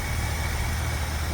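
A 1969 Ford Bronco Sport 4x4 with a 302 V8 idling, a steady low rumbling engine drone with a fine pulsing throb, close and unbroken with no talk.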